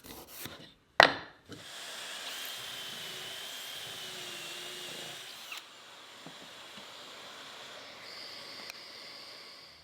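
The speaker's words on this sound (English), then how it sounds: "Now I have all the pocket holes drilled" A pocket-hole drill bores into wooden boards for a planter box, a sharp knock followed by a steady, fairly quiet whirring grind that runs for several seconds, then a softer continuing whine nearby.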